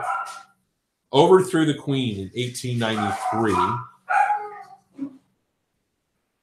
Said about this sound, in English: I'm sorry about the dogs. I really am sorry about the dogs.